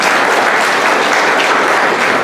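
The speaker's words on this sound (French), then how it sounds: "donc sous vos applaudissements." Dense audience applause at a Mauritian public information session, steady and loud throughout with no break, many hands clapping together.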